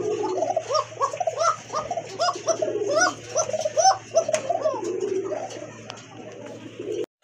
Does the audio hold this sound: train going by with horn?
no